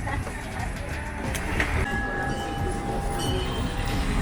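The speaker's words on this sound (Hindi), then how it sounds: "अब हमारी ट्रेन रवाना हो रही है।" A petite tourist train in Agadir pulls away, with a rolling rumble and rattling carriages under ongoing chatter from passengers, plus a couple of faint tonal whistles or squeals partway through.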